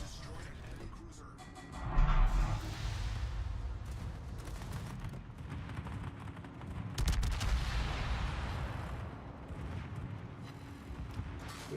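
Naval gunfire from King George V battleship guns in World of Warships, booming salvos with rolling rumble, two strong blasts standing out amid continuous battle noise, and someone speaking throughout.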